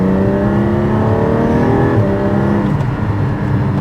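A Lamborghini Gallardo with its exhaust valve open revs hard, a loud, sustained engine roar that climbs in pitch, dips briefly, then pulls again, heard up close from inside the car.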